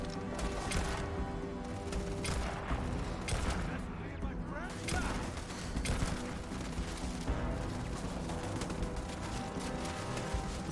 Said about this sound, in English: Looks like they're shooting the